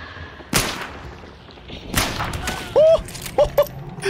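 Gunfire in the game Hunt: Showdown, a single sharp shot near 0.5 s followed by another blast around 2 s, loud and close against a low ambient bed, with brief tonal game sounds afterward.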